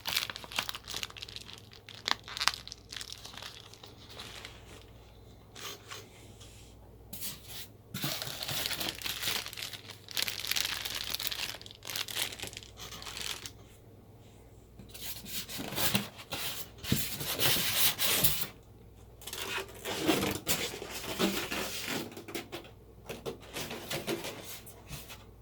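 Styrofoam packing pulled and rubbed free while a Brother PE800 embroidery machine is unboxed, giving a steady run of close, loud crinkling, squeaking and scraping, with brief quiet gaps and harsher bursts partway through.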